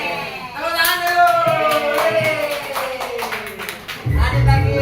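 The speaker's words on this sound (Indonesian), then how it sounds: "Tepuk tangan dulu." Repeated hand claps in a classroom, a steady patter running beneath children's voices talking or chanting nearby, with a louder burst near the end.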